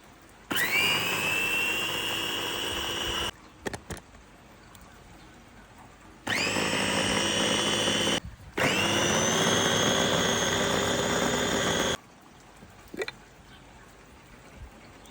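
A kitchen blender runs in three loud bursts of steady high whine, each starting and stopping abruptly, with short quiet gaps and small clicks between them; no one speaks over the motor.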